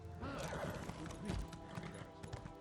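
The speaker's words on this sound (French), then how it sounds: "on va aller faire un petit tour en cheval" A horse galloping in The Elder Scrolls Online, a quick run of hoof clip-clops with a whinny, fairly faint with game ambience underneath.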